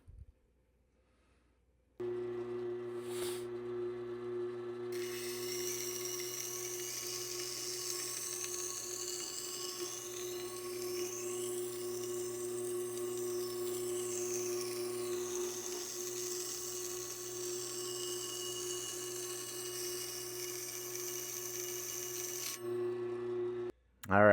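A $1.25 Dollar Tree knife sharpened on a powered sharpener to raise a burr: a steady, high-pitched motor whine with a hissing grind runs for about twenty seconds, starting and stopping abruptly.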